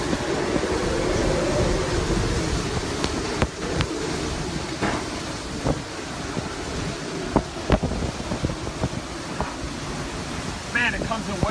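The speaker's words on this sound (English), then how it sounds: "The wind is coming in waves as those tornado-like vortices are moving by our location." Hurricane Michael's eyewall wind roars as a steady, dense broadband rush that swells and eases in gusts, with buffeting thumps against the microphone and no clear lulls.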